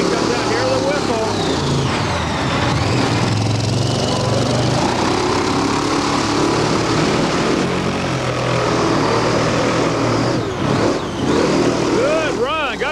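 A monster truck engine revs hard during a run at a monster truck show, a loud roaring drone that rises and falls in pitch with the throttle, with crowd and commentary noise mixed in.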